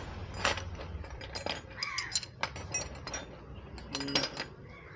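Large metal spanners are picked up and set down, producing sharp metallic clinks and clanks at close range, scattered irregularly with brief pauses between them.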